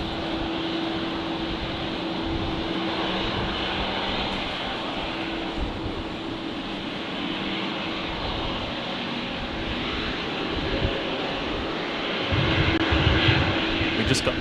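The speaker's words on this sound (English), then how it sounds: "Just on final now on 19 left, arriving from Newcastle, operated by Alliance." An Alliance Fokker 100 jet on final approach to runway 19 left at windy Brisbane Airport, a steady broad engine roar with wind noise, heard from a distance and building slightly louder toward the end.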